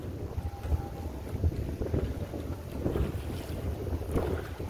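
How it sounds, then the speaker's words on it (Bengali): Strong gusty wind buffets a fishing boat on the Hooghly River as a storm blows up, rumbling and roaring in uneven bursts against the hull and microphone. "আর খুব জোরে একটু ঝড় মতন উঠেছে"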